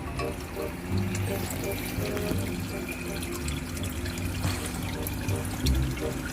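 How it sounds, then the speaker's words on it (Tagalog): Water rising in a red tilapia fish tank during a water change with a simple flow filtration system: continuous splashing and gurgling flow, fairly close, with someone talking over it. "tumataas na yung tubig, umaabot na sa level na to"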